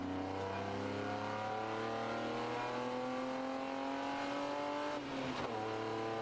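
Race car engine in a ChampCar endurance race at the Carolina Grand Prix, revving low and rough like a misfire, a steady climbing drone heard from a distance that briefly drops and recovers near the end.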